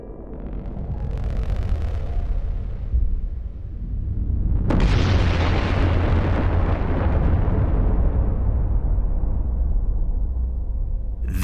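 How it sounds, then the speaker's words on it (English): A Type 1a supernova, an exploding star, rendered as a booming blast: a low rumble builds, then a sudden loud burst around the middle swells into a long, roaring, slowly fading wash of noise. "This is a Type 1a supernova, an exploding star."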